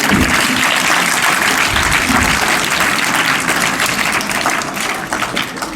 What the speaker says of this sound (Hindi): इनके लिए तालियां बजाओ